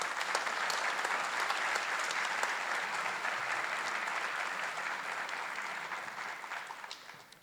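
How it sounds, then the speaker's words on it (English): Sustained audience applause at a fire and rescue promotional ceremony honoring newly promoted deputy chiefs, a dense steady clapping from a large room that holds for several seconds and then tapers off toward the end. "Let's give your deputy chiefs a congratulatory round of applause."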